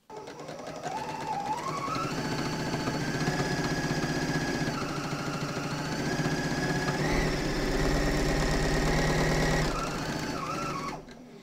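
A Bernina L460 serger sews a test overlock stitch, running continuously for about eleven seconds with a steady, fast mechanical whir that rises slightly in pitch as it speeds up, close and alone.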